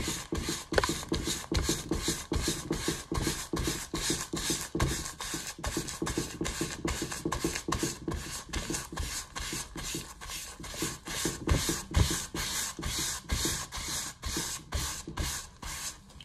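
Rapid, steady back-and-forth rubbing of a ball of cloth over an inked drypoint etching plate, a dense rhythmic scrubbing that continues close and fairly loud for the whole stretch with no talk.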